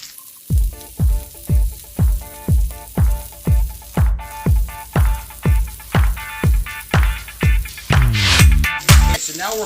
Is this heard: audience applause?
no